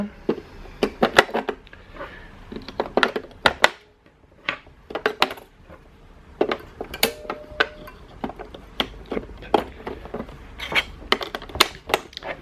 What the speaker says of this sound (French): on retourne l'appareil, on met les piles